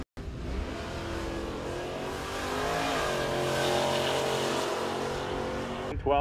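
A drag race car accelerates hard beside a fourth-generation Camaro at a drag week event, its loud engine roar rising steadily over several seconds, close and dominant, ending in a brief sharp burst.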